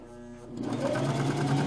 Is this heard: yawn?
no